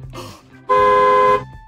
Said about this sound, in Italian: Questo è il clacson dell'autobus!